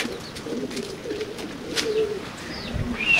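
Racing pigeons coo softly at a race loft, mixed with brief bird chirps over a low background hum.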